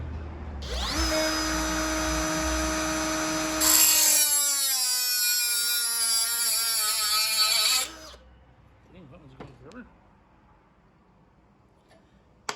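Metal saw cutting off the end of a steel saber blade tang, a loud sustained grinding whine with ringing tones that rises then stops abruptly around eight seconds, followed by a few faint clicks and handling sounds.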